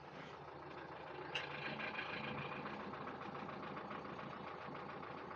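A 2012 Renault Duster RXZ diesel engine idles with a steady, even clatter, close and constant, with one brief sharp click early on.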